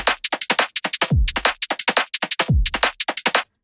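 Drum loop soloed through a vocoder set to 24 bands: rapid, busy percussive hits with two deep falling booms, dense and close with a synthetic, tonal edge, no talking.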